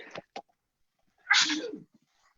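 A single loud sneeze bursts out close by, preceded by two short quick sounds, then a brief quiet.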